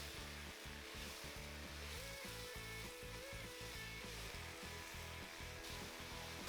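Half a bell pepper and onions sizzling in a hot pan for a butternut squash risotto, a steady close crackling hiss with no voices.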